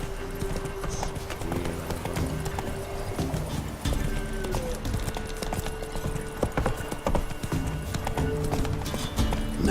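Hooves of Roach, a horse in The Witcher 3, clip-clop steadily and close at a walking pace over a busy game soundscape, with a brief whinny and occasional faint voice in the mix.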